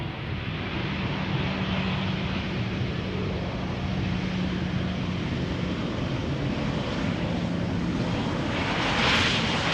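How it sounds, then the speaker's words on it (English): An EasyJet Airbus A319 airliner arriving at Schiphol Airport from London Gatwick, heard as a steady, loud broadband jet roar that holds for the whole stretch without pause or voices. "EasyJet flight 28673 arriving from London Gatwick, A319."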